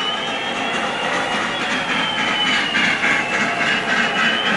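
Collection of model trains in several scales running on a home layout in Albemarle, North Carolina, with sound effects playing, a steady loud rumble of rolling wheels and rail clatter filling the whole stretch without pause.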